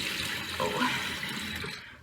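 Warm tap water runs steadily into a sink for face washing, a close, continuous splashing stream that fades out near the end.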